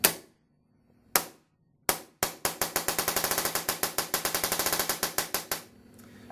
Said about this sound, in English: The ram 4 can shoot from 1 shot per second up to 15 shots per second simply by turning this Allen wrench counterclockwise.